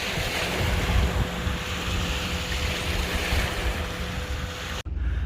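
Waves from a passing tour boat slap against a river embankment wall, a steady loud wash with low engine rumble and wind buffeting the microphone, cutting out abruptly near the end.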